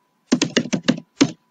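Keystrokes on a computer keyboard during questionnaire data entry in SPSS: six crisp, close taps in a quick irregular burst, five together and one after a short pause, with no talk.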